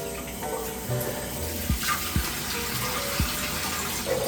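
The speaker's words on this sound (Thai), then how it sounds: "เดี๋ยวเราลองมาล้างหน้ากัน" Tap water runs steadily into a sink during face washing, a close continuous splash with a few sharper drips and splashes breaking through, with no voices.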